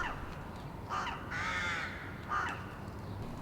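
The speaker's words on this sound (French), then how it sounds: "les corbeaux-freux nichent en colonie dans certains parcs" Rooks, colonial crows that nest in urban parks, caw harshly in a few separate bursts: a short call, a longer drawn-out caw, then another short one. The calls are fairly close and carry over a quiet outdoor background.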